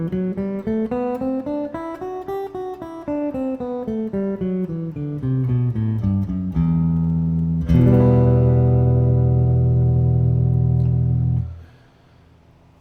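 A guitar plays an E Aeolian scale of single notes rising and then falling, then a full chord rings out and sustains before fading, with no voices.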